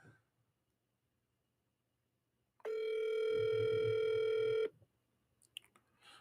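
A single unanswered telephone call sounds one steady electronic ring tone for about two seconds, clear and close, with near-silence before and after and no voices.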